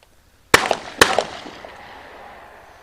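Two sharp AR-15 rifle shots crack at an outdoor range about half a second apart, each followed by a short echoing tail that fades away.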